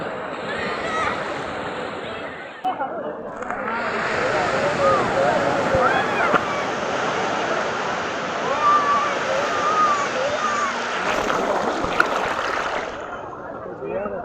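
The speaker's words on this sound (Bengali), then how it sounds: "আর এদিকে সমুদ্র দেবতা আমাদের ঢেউ দিয়ে যাচ্ছে" Sea waves wash continuously onto Digha beach at low tide in a broad, steady surf roar that surges now and then, with voices nearby.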